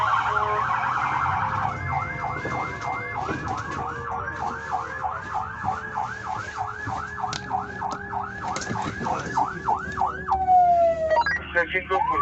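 Ambulance siren wailing in repeated rising-falling sweeps for most of the span, loud and close on a street, with traffic rumble beneath and a faster electronic yelp at the very end.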